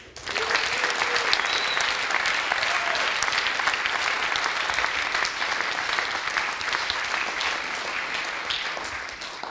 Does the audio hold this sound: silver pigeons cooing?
no